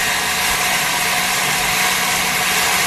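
An electric mixer whips eggs and oil into mayonnaise with a loud, steady motor whine and buzzing hum, unbroken from start to finish, no one speaking.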